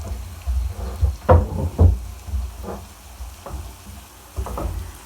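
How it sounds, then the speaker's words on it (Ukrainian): Carrots and onions stewing with chicken hearts in a pan, a soft steady sizzle with occasional stirring scrapes and clunks against the pan, close by and fairly loud. "І тепер додаємо моркву і цибульку в наші сердечка і тушкуємо це до напівготовності овочів"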